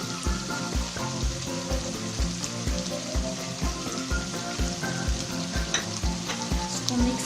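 Green chilies and ginger frying in a karahi for chicken karahi: a dense, loud, continuous sizzle with a fast crackling patter and occasional stirring scrapes.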